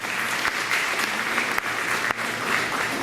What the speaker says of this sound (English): Let's give Cadet Corporal Tricia Letzenberger a big round of applause